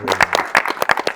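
An audience claps at a live music-radio interview event, a short burst of sharp, distinct hand claps at close range, with no talking.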